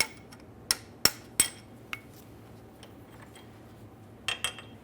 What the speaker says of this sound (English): Use a hammer and punch.